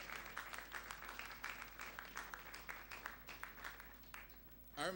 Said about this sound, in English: Keep the applause going for her, please.